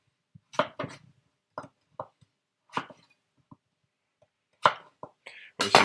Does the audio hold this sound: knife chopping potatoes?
yes